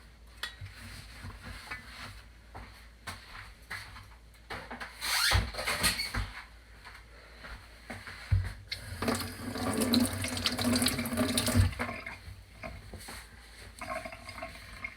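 Tap water runs steadily into a kitchen sink as hands are washed while bean burgers are being made. The stream is moderately loud and close, with no talking, and it swells in louder splashy stretches midway.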